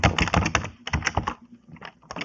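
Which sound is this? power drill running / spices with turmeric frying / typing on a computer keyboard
typing on a computer keyboard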